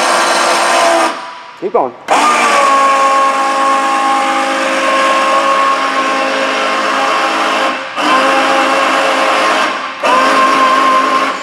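The motorized winch on a 2020 Flagstaff HW27KS tent camper whines steadily as it raises the roof, with brief pauses where the motor stops and restarts, and a voice speaks over it.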